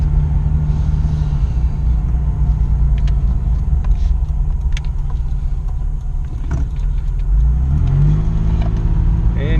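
A Nissan Xterra with a VG33 engine and Schneider Racing cams drives along, its engine rumbling steadily up close and then revving up toward the end as the vehicle accelerates.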